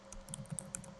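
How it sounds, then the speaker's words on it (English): Quick, uneven taps on a computer keyboard, a short burst of keystrokes in close, quiet surroundings with no speech. "Let me learn how to type"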